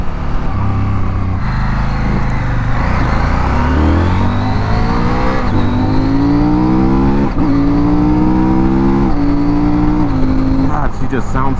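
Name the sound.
CFMOTO 800 twin motorcycle engine revving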